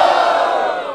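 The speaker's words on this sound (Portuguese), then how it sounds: "Então pros dois melhores, vocês gritam mais." A packed crowd at a Brazilian freestyle rap battle in Barueri, São Paulo roars and shouts in one loud, continuous burst of cheering that fades slightly toward the end.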